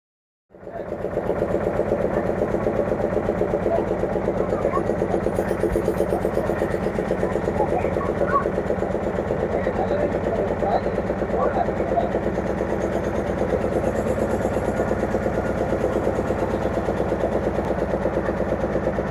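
A steady, loud motorboat engine drones continuously with a rapid rhythmic chug, close by and unbroken, with indistinct voices faintly underneath, at Poolampatti, Salem.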